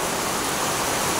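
Heavy rain with overflowing floodwater, a dense, steady hiss of downpour and rushing water, loud and unbroken, with no voices.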